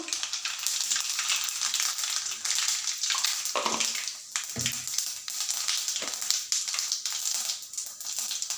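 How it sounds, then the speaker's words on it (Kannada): Mustard seeds and cumin sizzle in hot oil: a loud, continuous close frying hiss with dense crackling spatter that holds steady throughout. "ಇವಾಗ ನೋಡಿ ಆಯಿಲ್ ಬಿಸಿ ಆಗಿದೆ ಸಾಸಿವೆ ಹಾಕ್ಕೋಬೇಕು ಆಮೇಲೆ ಬಂದುಬಿಟ್ಟು ಸ್ವಲ್ಪ ಜೀರಿಗೆ ಹಾಕ್ಕೋಬೇಕು"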